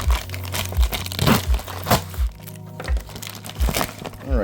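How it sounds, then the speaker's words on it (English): An unboxing knife cutting open a plastic packaging bag holding a dbrand Killswitch 2 case for Nintendo Switch 2: close crinkling and crackling plastic with repeated tearing tugs and soft thumps in an uneven rhythm. "The unboxing knife, let's go ahead and cut it out."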